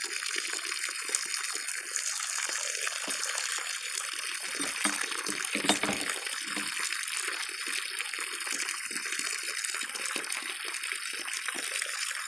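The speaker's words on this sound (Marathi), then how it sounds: "या पाटाने पाणी सोडते आणि पाटाने पाणी नेमका जाणार आहे तिकडे बघा." Irrigation water runs along an earthen field channel toward trees on a farm, a steady, close trickling and gushing flow with no voices.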